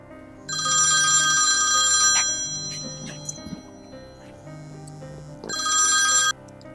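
A phone ringtone rings loudly for a couple of seconds, stops briefly amid faint clicks, then rings again.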